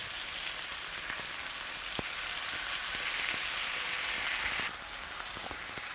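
Tandoori chicken pieces fry in a pan with a sharp, rain-like sizzle. It runs steadily throughout with scattered faint ticks and pops, then drops slightly in intensity near the end, and no one speaks.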